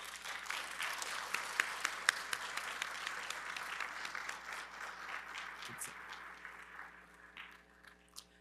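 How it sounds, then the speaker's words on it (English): Graduates at a university commencement ceremony applaud their families and friends, a broad wash of clapping from a large hall crowd, with a few sharp claps early on, slowly thinning and fading toward the end. "Please applaud them."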